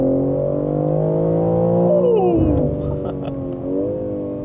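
A BMW M3 Competition engine hums and rises in pitch as it revs, a steady near drone with a sweeping tone change midway, without many pops.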